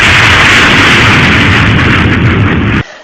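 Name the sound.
sonic boom from a supersonic plane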